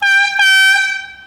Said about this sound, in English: This allows me to honk my horn if a car is in my lane or doesn't see me.